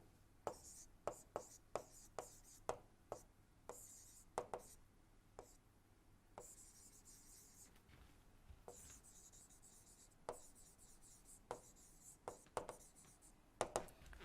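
Writing on a lecture slide about IC engine performance: quiet, sharp scratching and tapping strokes come in irregular bursts, faint and close, with no speech.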